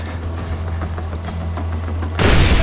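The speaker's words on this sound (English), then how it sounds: "I'm throwing a grenade!" A grenade explodes in Far Cry 4: a sudden, loud, close blast erupts near the end, breaking through a steady low rumble of in-game background noise.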